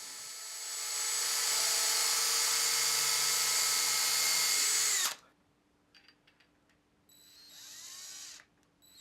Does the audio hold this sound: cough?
no